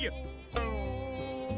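Flies buzzing in a cartoon scene, a sustained tonal drone that swells briefly near the middle and then holds steady, close and fairly loud.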